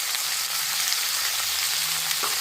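Vegetables with salt and turmeric frying in a pan give a steady, even hiss of sizzling oil, moderately loud and close, with no voices.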